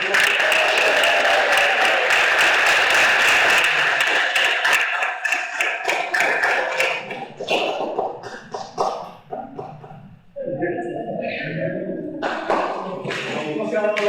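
Audience applauding actors after a theatre performance, a dense burst of clapping for several seconds that thins into scattered claps and fades, with voices over the tail.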